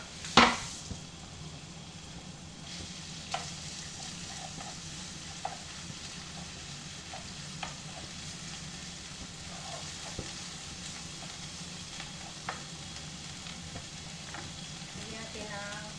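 Chicken breast sizzling as it is stir-fried in a pan, a steady soft crackle with a sharp clatter at the start and occasional light utensil taps against the pan.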